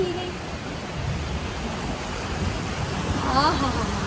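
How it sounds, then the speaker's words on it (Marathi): Steady rush of flowing water fills the clip, a continuous noisy wash with brief faint voices near the end. "आता येऊन राहिलं पाणी पाणी पाणी."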